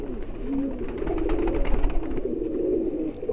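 High flyer breeder pigeons coo in low, throaty rolling calls, several birds close by, with faint rustling and background noise beneath.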